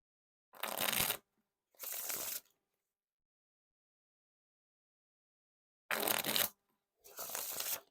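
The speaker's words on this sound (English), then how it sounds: "There's no issues with the bridge shuffles or riffle shuffles so far." Theory11 Hollywood Roosevelt playing cards are riffle and bridge shuffled in two pairs of quick riffling bursts, with a long silent pause between the pairs, close and clear with no talk.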